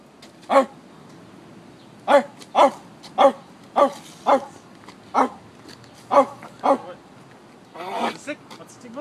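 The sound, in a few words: person imitating a barking dog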